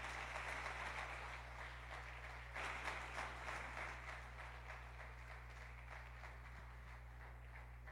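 A church congregation applauds to welcome a visiting preacher, the clapping faint and distant over a steady electrical hum, continuing evenly for several seconds.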